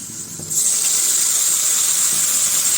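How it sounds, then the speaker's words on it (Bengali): Soaked spice paste poured onto potatoes frying in a hot pan sets off an abrupt, loud hissing sizzle that holds steady and close after a brief quieter moment. "এখানে যে মশলাটা ভিজে রাখছি বা গুলে রাখছি সেই মশলাটা দিয়ে দেব"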